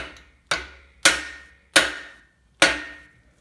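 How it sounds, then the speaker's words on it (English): Four sharp, evenly spaced taps from a plastic-ended soft-faced hammer seating a main bearing cap on a 4.6 engine, each ringing briefly before fading, heard up close with no other sound. "One thing I have that I use to seat these with is a soft-faced hammer here."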